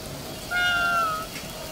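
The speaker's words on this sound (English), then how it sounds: "Let's go to this kitty cat." A cat meows once in the Ghostwire Tokyo video game, a single clear, tonal mew of about three-quarters of a second over a quiet game background.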